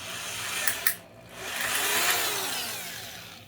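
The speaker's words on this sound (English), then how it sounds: "that's all it takes to drill it out" A power drill whines steadily at close range, briefly easing off before grinding back up to full speed as it drills out a broken screw hole in a power tool's housing.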